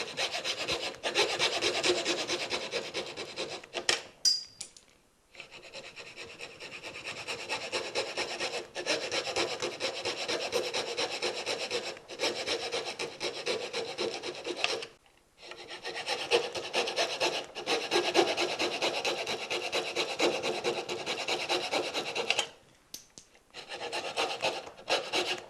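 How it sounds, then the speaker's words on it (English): A coping saw cuts out dovetail sockets in wood with steady rasping strokes in a close, even back-and-forth rhythm, broken by brief pauses as the blade is repositioned. "Now I'm going to use a coping saw to cut out the sockets between the pins."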